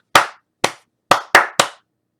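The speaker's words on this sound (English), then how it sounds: "If you think about when you clap," Five crisp, loud hand claps demonstrated as a percussion sound, close and isolated against silence, spaced unevenly with two quick claps near the end.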